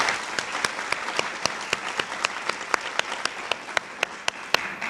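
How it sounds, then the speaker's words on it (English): Applause for guest speakers at a Teacher of the Year event, a dense wash of clapping with sharper individual claps standing out at a steady beat throughout, moderately loud and close. "Can we get a big round of applause for all our awesome speakers?"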